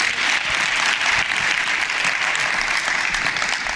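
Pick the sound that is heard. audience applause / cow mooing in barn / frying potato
audience applause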